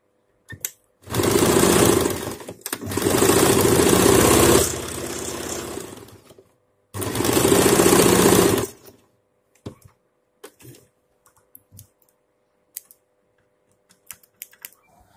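A sewing machine stitches a fabric strip onto a top in two loud, rapid runs of several seconds each with a brief pause between them, then stops, leaving scattered faint clicks and handling noises.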